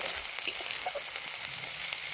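A steady, close-up sizzle of spices including ginger frying in hot oil for aar fish curry, with a few soft scraping stirs, no talking.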